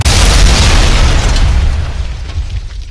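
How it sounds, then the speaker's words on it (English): A loud, close explosion effect for a Maya visual-effects shot: a sharp booming burst that opens at full force, then rumbles and slowly fades over about three seconds, with no voices. "If you wanted the explosion to happen not on frame 0, but maybe on frame 60"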